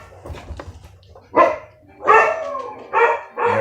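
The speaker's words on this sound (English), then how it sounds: "There goes the dogs." Several dogs bark in bursts, about four loud barks spread over a few seconds, with a low background rumble and faint yips between them.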